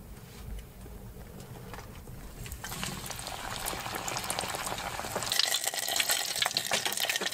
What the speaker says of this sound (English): So it's like it's being deep fried.